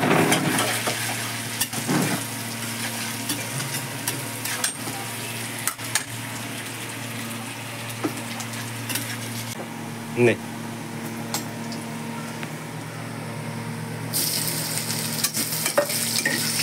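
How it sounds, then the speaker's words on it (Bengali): Rohu fish fries in a pan during a Bengali New Year home cooking session, a continuous close sizzle with scattered clinks and brief louder bursts as other dishes cook nearby. "এখানে হচ্ছে এই রুই মাছ ভাজা এক সাইডে।"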